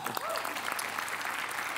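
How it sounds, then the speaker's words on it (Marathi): A studio audience on a Marathi TV comedy show claps loudly and steadily to welcome guests, with a faint voice briefly audible under the applause. "जोरदार टाळ्या."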